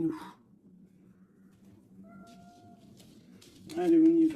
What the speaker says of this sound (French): Ça, c'est minou.